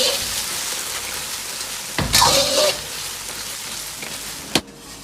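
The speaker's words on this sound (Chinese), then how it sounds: "接着倒入里脊，快速的翻炒均匀" Pork tenderloin tipped into hot oil and quickly stir-fried for sweet and sour pork: a loud burst of sizzling as the meat goes in, then a steady close hiss with a sharp clank of a utensil near the end.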